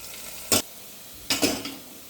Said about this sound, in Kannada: ಸೊ ನೋಡ್ರಿ ಉಳ್ಳಾಗಡ್ಡಿ ಎಲ್ಲ ಫ್ರೈ ಆಗ್ಯಾವ